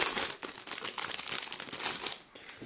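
A sticker is peeled off a car HUD gauge unit, producing close, continuous crinkling and tearing noises with brief pauses throughout.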